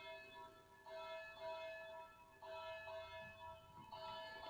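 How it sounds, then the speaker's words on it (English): Wedding bells toll in the Harvest Moon DS farming game, three soft chiming strikes of bright layered bell tones ringing out one after another at a quiet level. "Can you hear the wedding bells?"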